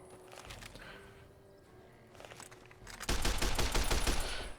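Gunfire from a slow-firing weapon in Fallout New Vegas (Tale of Two Wastelands), a few spaced reports over the first half, then a denser, louder burst of shots and impacts in the final second and a half.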